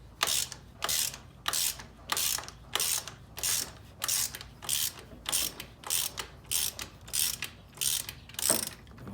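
A ratchet wrench loosens a 15 mm bolt on the alternator of a Jeep Commander XK with a 3.7 or 4.7 engine, giving rapid close clicking bursts in a steady back-and-forth rhythm of about a dozen strokes.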